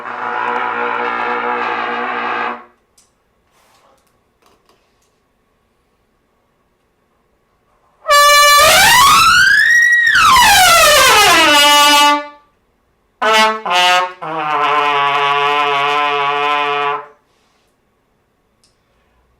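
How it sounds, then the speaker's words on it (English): Loud harmonic truck air horn blasts sound in several separate bursts, one swooping up and down in pitch, with short gaps of near silence between them. "Let me honk"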